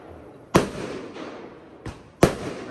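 Fireworks exploding at an outdoor firework show at Shanty Creek: two sharp, loud booms and a couple of fainter distant bangs, each trailing into crackling rumble, with no voices.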